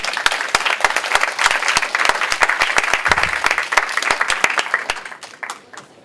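Lecture audience applauding a speaker: a steady burst of many hands clapping at close range for about five seconds, thinning out to a few scattered claps at the end.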